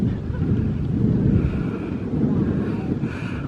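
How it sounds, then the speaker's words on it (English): Steady wind buffets the microphone at an exposed outdoor spot in ZSL Whipsnade Zoo, a continuous low rumbling roar that stays loud for the whole stretch. "you have to forgive the wind blowing through"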